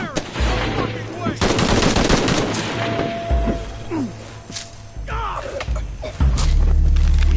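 Machine-gun fire in Shadow of the Tomb Raider rattles in loud rapid bursts with heavy booms and impacts, close and dense, broken by short gaps.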